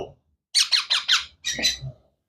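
A pet bird in a bird shop lets out a quick run of sharp, shrill squawks, about six calls in two bursts, close and loud against silence.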